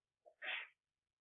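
A single short human sneeze with a small inhale before it, close and clear in an otherwise quiet classroom.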